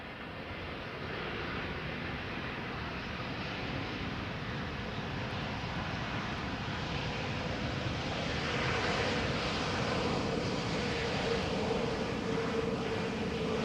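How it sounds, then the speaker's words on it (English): Airliner landing at Amsterdam Schiphol with thrust reversers deployed, a broad, steady engine roar that swells slightly louder toward the end, heard alone without talk. "open reverse, thrust reverse slots, but not a lot of sound coming out of them"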